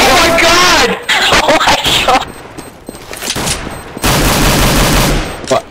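Video game gunfire rattles in loud bursts at the start and again near the end, with excited voices talking and shouting between the shots.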